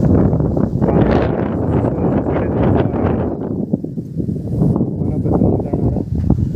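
Strong gusty wind on a mountain pinnacle, the Wazir pinnacle, roars and buffets the microphone in heavy, rumbling surges, loud and close throughout.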